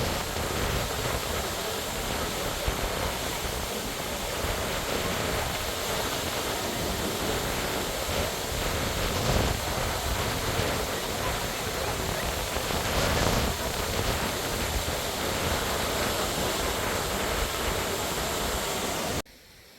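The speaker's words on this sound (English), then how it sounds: "The sound of the water itself has a magical healing power" Falling water rushes and splashes in a constant, dense roar, steady throughout, then cuts off abruptly at the end.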